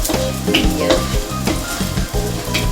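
Garlic sizzles in oil in a pan while cooking Bicol Express, a steady close crackle with occasional stirring scrapes and clinks, no talking.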